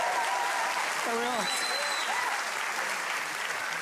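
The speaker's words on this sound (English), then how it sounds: "Give him a round of applause." A TV quiz-show studio audience applauds a guest, a dense continuous wash of clapping heard throughout, with a host's voice speaking briefly over it.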